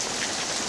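Steady rain falls on outdoor surfaces, a dense continuous hiss of drops with no gaps, fairly close and even in level throughout.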